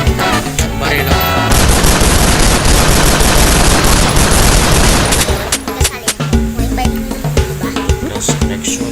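Rapid bursts of gunfire in the Minecraft video game, version 1.20.10 multiplayer, dense and loud for several seconds and then thinning into scattered shots mixed with game music and effects.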